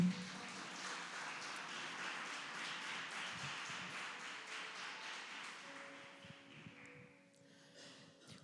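Church congregation applauding God together, a dense steady wash of clapping from many hands that holds for several seconds and then gradually thins and fades out.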